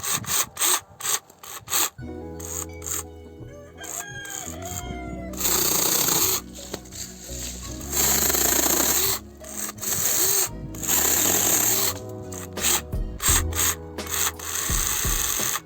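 A small 21-volt battery mini pruning chainsaw cuts through fairly thick tree branches outdoors. A close, whining motor comes in repeated bursts, with rough, grinding cutting noise rising and falling as each branch is sawn.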